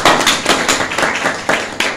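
Applause at a Friday healing meeting, sharp and fairly loud, with a handful of distinct claps and bursts marking a quick uneven rhythm, close by and with no talk over it.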